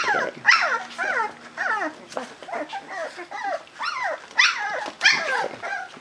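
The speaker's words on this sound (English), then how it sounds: "I hear somebody barking. Who's barking? Who's barking?" Eighteen-day-old pitbull puppies yip and whine in quick overlapping bursts, high-pitched squeaky barks and whimpers repeating close by throughout, with no talking.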